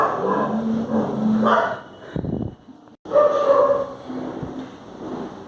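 Dogs bark outside in a burst of repeated loud barks and yips, with a brief pause midway before more barking resumes at a slightly lower level.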